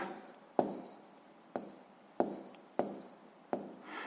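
Pen strokes on paper while writing out a sixth-grade math exercise: five quiet, close taps and short scratchy strokes spaced about a second apart, with no speech.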